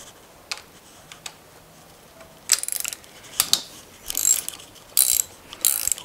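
Ratchet wrench loosening long bolts on a seized engine, a few isolated clicks and taps at first, then several quick bursts of rapid metallic ratcheting at close range.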